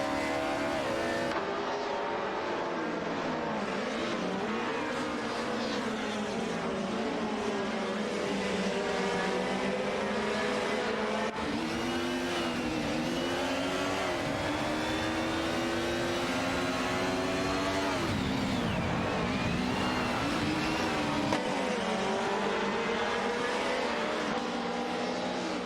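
Race cars in an AI racing video game, including an Alfa Romeo, jostle for position mid-pack, their engines whining loud and continuous with overlapping revs and gear shifts rising and falling throughout.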